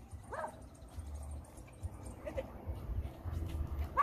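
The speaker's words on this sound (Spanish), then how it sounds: "Miren, este perrito es el que se enamoró de tío Chamba y tío Chamba se enamoró de ella." A small dog gives a few faint, brief barks and yips at a distance over low outdoor background noise.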